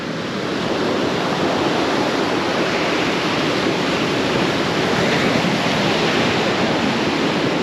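Ocean surf rolls onto the beach at Panama City Beach, Florida, a loud, continuous wash of breaking waves close by with no pauses or voices.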